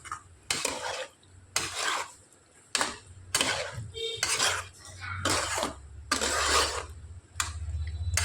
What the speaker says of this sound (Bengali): নাড়াচাড়া করে খুব সুন্দর করে মিশিয়ে নেব।